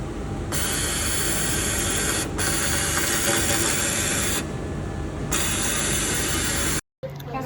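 Fabric cutting machine working on lightweight tank-top material in a workshop, a steady loud mechanical whir and hiss with brief pauses, ending in a sudden cutoff.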